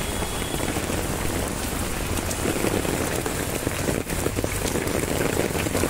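Heavy downpour drums steadily and loudly on a street in Viman Nagar, Pune, a dense unbroken roar of rain hitting surfaces close by throughout.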